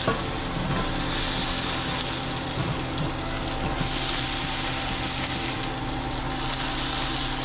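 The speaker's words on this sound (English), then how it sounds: "Pressing the meat flat will help you get a better sear" Steady sizzling crackle of steak pressed flat and frying in a hot pan, a continuous hiss with small pops and no voices.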